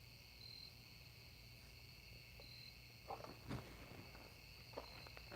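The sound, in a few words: bugs buzzing outside, crickets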